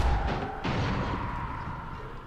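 Muffled, booming gunshots in the video game Dying Light: a heavy blast at the start and another about half a second later, each followed by a fading rumble.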